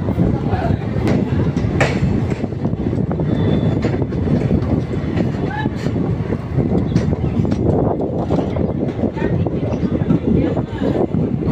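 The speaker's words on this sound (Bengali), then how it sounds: "তোমরা দেখলে নৈহাটি থেকে ট্রেনটা ছেড়ে দিয়েছে" Maa Tara Express train pulling away from Naihati station on the Kolkata to Tarapith route, a loud continuous rumble with rattling wagons and faint clickety-clack, heard from inside the carriage.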